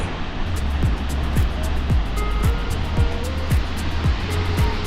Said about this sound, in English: with the sound of rushing water filling the valley